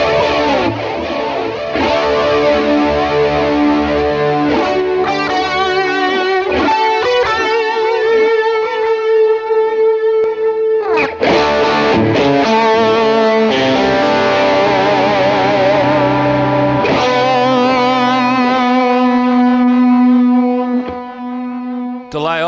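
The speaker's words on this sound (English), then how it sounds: "And some reverb." Distorted electric guitar through an Axe-FX preset with reverb, playing notes and chords that ring out and linger in a reverberant wash, loud and continuous.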